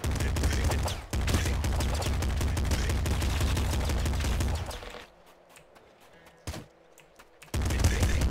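Dense, sustained automatic assault rifle fire in a video game, a loud continuous fusillade that cuts off midway into near quiet, with a single sharp report before the firing resumes at the end.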